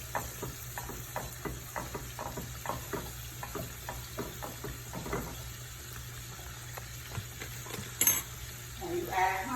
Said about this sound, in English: I'm gonna put just a little butter. Just melt some butter.